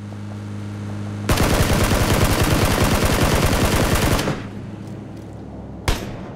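Rapid automatic gunfire in PUBG rattles off in one sustained burst of dense, evenly spaced shots lasting about three seconds, loud and close, followed by a quieter lull and a single sharp report near the end.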